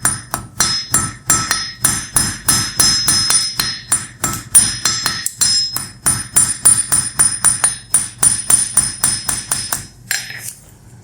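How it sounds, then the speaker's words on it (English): The peen side of a hammer strikes metal in a steady series of sharp, ringing blows while a small Mjolnir pendant is forged, close and loud, stopping just before the end. "So I'm using my peen side of my hammer to spread out the material to the sides."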